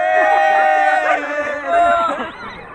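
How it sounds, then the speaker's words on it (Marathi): A group of students cheering at Alibag beach: several young voices shout and whoop together, loud and close, in a brief burst of excited calls. "हे माझे विवेक, रितेश, आकाश आणि प्रवीण नावाचे विद्यार्थी आहेत जे जल्लोष करत आहेत"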